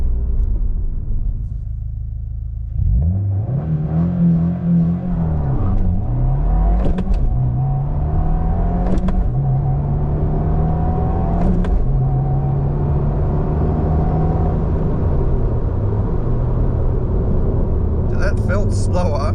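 A 2024 Subaru WRX with a manual gearbox accelerates hard through the gears in a 0–100 run, its engine rising in pitch with sharp dips at each shift, heard from inside the cabin over road rumble.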